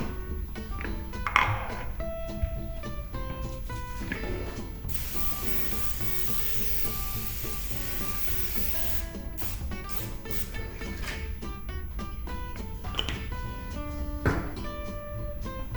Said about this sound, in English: I'm gonna spray it with cooking spray.